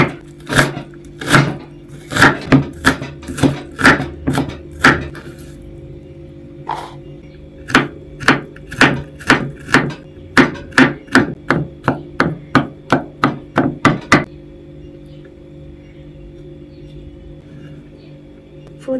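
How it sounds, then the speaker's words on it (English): Red onions are chopped with a knife on a cutting board in a home kitchen: sharp, evenly spaced knife strikes, close and clear, in quick runs with short pauses, stopping abruptly near the end. "I'm going to go ahead and chop my onions up"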